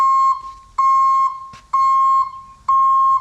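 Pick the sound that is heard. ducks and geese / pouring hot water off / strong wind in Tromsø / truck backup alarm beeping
truck backup alarm beeping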